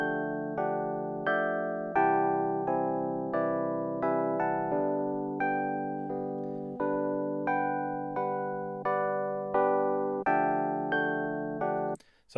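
Song sample converted into a harmony track plays as a steady sequence of evenly plucked, synthetic-sounding sustained notes and chords in a regular rhythm, moderately quiet, ending with a brief click.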